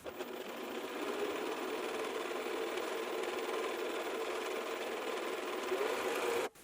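A serger stitches along the edge of a fabric square, giving a quiet, steady, rapid mechanical whirr. It runs unbroken for over six seconds and stops sharply at the end.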